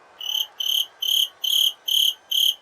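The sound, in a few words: cricket chirping sound effect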